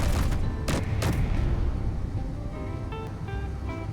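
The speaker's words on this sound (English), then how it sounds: "And we are taking fire." Incoming weapons fire in the space game Space Engineers: a few heavy booming bursts in the first second and a half, then fainter rumbling impacts and scattered tonal beeps, with no voices.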